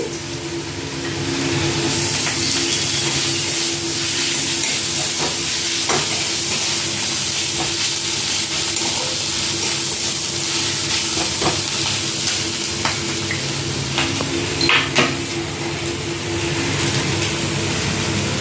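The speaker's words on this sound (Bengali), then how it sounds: "পেঁয়াজ রসুন হালকা করে ভেজে নিয়েছি এবার একটু আদা বাটা দিচ্ছি" Onion, garlic and ginger paste frying in a pan, a steady close sizzle with occasional scraping and stirring clicks over a low continuous hum.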